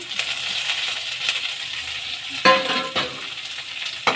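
Ginger, green chili, coriander stems and curry leaves fry in hot oil for a mango rasam, giving a steady bright sizzle with a couple of louder clinks and stirring knocks near the end.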